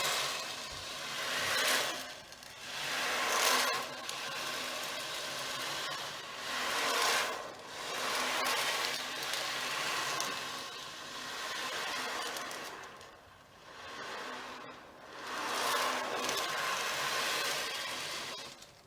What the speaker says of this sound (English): the sound of the waves crashing against the harbour wall